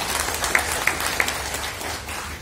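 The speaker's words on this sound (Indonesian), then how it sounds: "Aplaus untuk PT Multistrada dan teman-teman." An audience claps for the company PT Multistrada at a workers' gathering, a dense, steady round of applause with a few sharper claps standing out.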